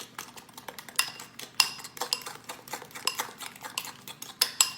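A spoon clinks and scrapes against a bowl while stirring white pepper into a squash casserole mixture, a steady series of light metallic taps and scrapes, close and fairly quiet.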